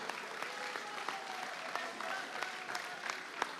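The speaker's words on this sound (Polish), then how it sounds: "Jeszcze raz wielkie brawa dla Mastersów." Steady applause from a crowd at the PIKC 2023 event, honoring the Masters category finalists, with sharp individual claps standing out over a dense, even wash of clapping throughout.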